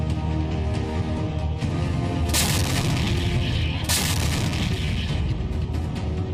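Deep, continuous rumbling booms of M777 howitzer artillery fire with two brighter blasts cutting through, loud and distant-sounding with no voices.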